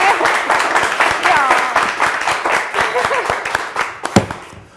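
Studio audience applauding on a Turkish word game show, a dense run of clapping that swells and thins, with a voice speaking over it and a sharp clap near the end.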